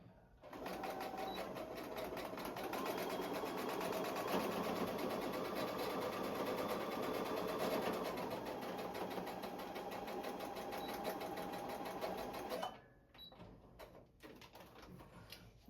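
A sewing machine runs steadily for about twelve seconds, stitching a quarter-inch seam on a small fabric holder, with a rapid continuous needle clatter and motor hum close by, then stops, leaving faint handling noises and no speech.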